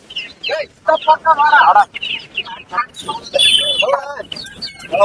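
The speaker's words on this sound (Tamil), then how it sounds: "வான்கோழிகள் கோழி குஞ்சுகள் வாத்தி கொண்டாந்துருக்காங்க" Turkeys, chicks and ducks at a busy Monday goat market in Kunnathur, Tirupur, cluck, chirp and squawk in overlapping bursts close by, with people talking among them.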